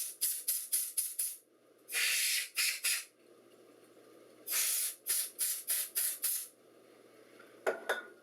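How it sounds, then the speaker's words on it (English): Short bursts of compressed air blast into the heatsink vents of a Dell Inspiron 9100 laptop, a rapid string of hissing sprays followed by longer gusts and another quick series, close and loud with no talking. "I'm going to clean out the heatsink vents with the compressed air."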